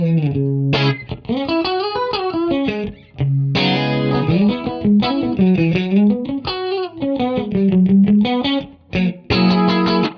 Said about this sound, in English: I've just called it DIY chorus, and it sounds like this.